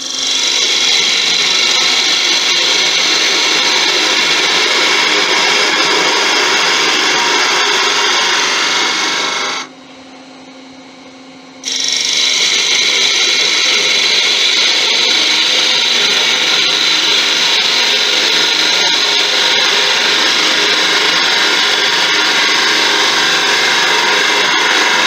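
A 14-inch natural teak snowman spins on a wood lathe while a detail gouge cuts it, giving a loud, steady rasping and scraping that breaks off for about two seconds midway before resuming.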